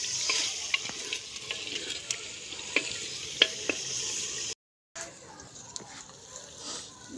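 Mixed vegetables dropped into a hot pan with tomatoes and turmeric, sizzling and frying under steady stirring scrapes and sharp clinks, close by, with a brief silent gap partway through.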